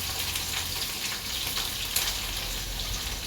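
Green chilies frying in hot oil for Angamaly-style fish pickle, giving a steady, close hiss of sizzling with a faint bubbling texture and no voices.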